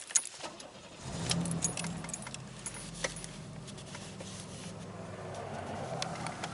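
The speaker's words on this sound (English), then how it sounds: "Oh my goodness, I got another vehicle coming." A 1989 Oldsmobile 88 Royal car on a quiet road with another vehicle approaching, making a low engine rumble that builds and holds steady along with light jingling and faint rattles nearby.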